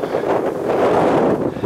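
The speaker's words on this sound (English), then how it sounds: "it is a bit windy" Gusty wind at an airport on flat ground buffets the microphone with a low, rumbling roar that swells and eases over a couple of seconds.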